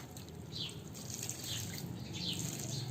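Water from a hand pump pours in a steady, close, hissing stream, with light splashing and a few faint drips over the full three seconds and no voices.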